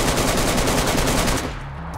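Rapid automatic gunfire in the survival game DayZ, a dense burst of loud, close shots rattling continuously before cutting off into a quieter tail.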